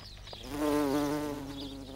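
A mason bee's buzz swells up close, a steady droning hum that rises and then tapers off over a couple of seconds.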